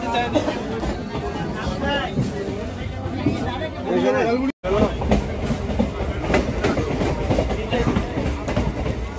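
Inside a crowded local train running from Sealdah to Canning near Kolkata, a steady rumble and rhythmic clickety-clack of the carriages runs under loud passenger chatter and babble, with a brief dropout midway.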